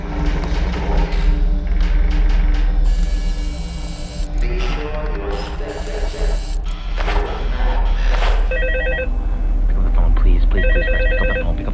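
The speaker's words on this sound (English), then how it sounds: "Fritz gets a frantic phone call from Jeremy" A telephone rings repeatedly in an electronic trilling pattern, loud and close, over music and a voice narrating.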